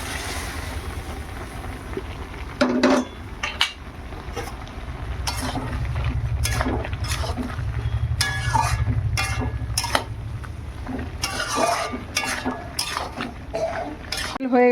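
Fried prawns tipped into a wok and stirred, with metal spatula scrapes and clatters against the pan in bursts over a steady low hiss of cooking.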